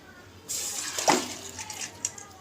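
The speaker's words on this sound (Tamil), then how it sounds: "இப்போ பாசிப்பருப்பு வந்து நல்லா கழுவிட்டு குக்கரில் சேர்த்திக்கலாம்" Moong dal lentils get washed with water in a brief, soft splash and swish that rises and fades within about two seconds, close by and fairly quiet against a faint background hum.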